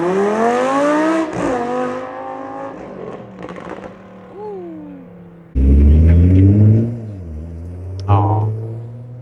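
Supercars at a roadside gathering, including a Lamborghini Huracan, rev and accelerate nearby. One bursts into a loud, deep, rising roar on launch, with voices heard between the runs.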